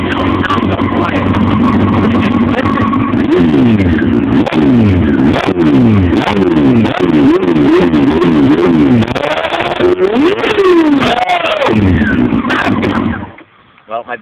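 An engine roars through a Jardine RT One aftermarket exhaust, loud and close, with repeated rising and falling revs, a few deep swoops of throttle, then an abrupt cutoff into near silence.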